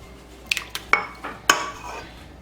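Eggs are added to lemon blueberry cake batter in a mixing bowl, giving several sharp clinks and taps of shell and utensil against the bowl, clear and close with no talking.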